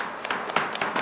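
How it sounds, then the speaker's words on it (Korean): Audience applause after a guest speaker is introduced at a Korean gathering: a short, scattered burst of clapping with uneven hand claps rising and falling, moderately loud and close, with no talk over it. "우리 코리아 조영환 대표께 뜨거운 박수 부탁드리겠습니다."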